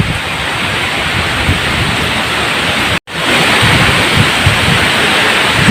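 Heavy rain and strong wind from Typhoon Odette roar as a constant loud wash of noise, with a brief dropout midway and no talking.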